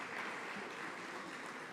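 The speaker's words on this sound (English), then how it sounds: "she deserves another round of applause" Faint, distant applause from an audience at an education launch event, a soft, even patter of many hands that holds steady for a moment.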